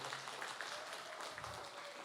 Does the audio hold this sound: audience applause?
yes